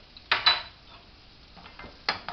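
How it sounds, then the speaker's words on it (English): Zucchini is stirred in a pan, producing a few close utensil scrapes and clinks against the cookware with quiet gaps between them. "We're going to stir the zucchini again."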